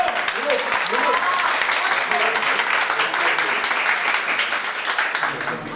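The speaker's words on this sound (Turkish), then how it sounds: "Alkışlıyorum." Steady applause and clapping from a group fills the whole stretch, even and sustained at moderate volume, with voices faintly mixed underneath.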